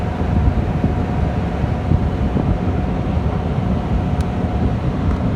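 Restaurant heater's indoor blower motor running on high fan speed, a loud continuous low rumbling whoosh with a faint steady hum above it, close and unbroken, no talk.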